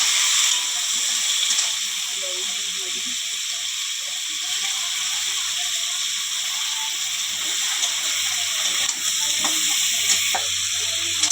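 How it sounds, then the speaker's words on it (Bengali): Sliced potatoes and onion fry together in a kadai just used for frying shrimp, making a constant broad hiss with a few faint clinks and scrapes near the end. "হ্যাঁ, আলুগুলো আলাদা করে আর ভাজলাম না, একসঙ্গে ভেজে নিচ্ছি পেঁয়াজের সঙ্গে।"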